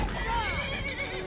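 A horse whinnies in Skyrim during a fight, a wavering high neigh sweeping through the clip amid combat noise, with a voice talking over it.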